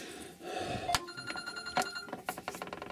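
A telephone rings nearby with repeated, fairly quiet trilling bursts over a faint background, and no voices are heard.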